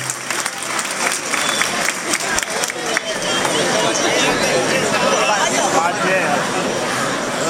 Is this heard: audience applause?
yes